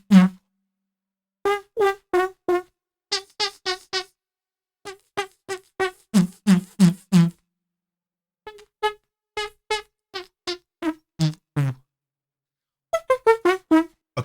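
Beatboxed vocal synth effect: a run of short, punchy pitched mouth-made synth notes in rhythmic bursts with brief pauses, close and clear, a voice imitating an electronic synthesizer with no spoken words.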